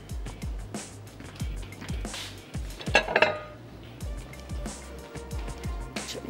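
Dishes and metal utensils clink and clatter up close as a serving platter is taken out in a home kitchen, a run of repeated knocks and rattles with one busier burst midway.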